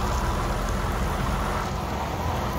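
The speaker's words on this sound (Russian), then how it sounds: "Дождь, видите, какой идет?" Rain falls steadily outdoors beside a truck on a waste-paper run in Germany, a close, even hiss with no breaks and no voices.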